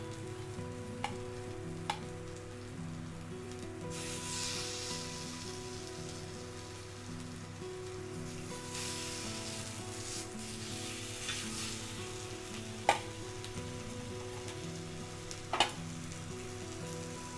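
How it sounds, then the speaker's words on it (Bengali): Tuna pieces frying on a hot tawa make a continuous crackling sizzle like rain, swelling and easing over time, with a few sharp clicks as the fish is placed and moved, and no voices. "এবার আমি আস্তে আস্তে মাছগুলিকে এখানে সাজিয়ে দেব।"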